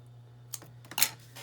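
Small scissors snipping paper close by, a few quick sharp cuts separated by short pauses over a low steady hum.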